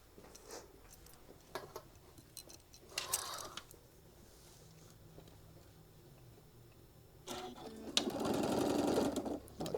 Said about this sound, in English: we're going to stitch it all the way down and get this attached